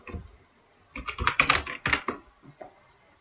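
Fingers tap out a name on a computer keyboard in a quick, close burst of clicking keystrokes, with a few softer taps trailing off at the end and no talking.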